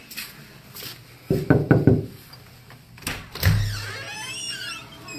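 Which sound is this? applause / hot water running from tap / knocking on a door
knocking on a door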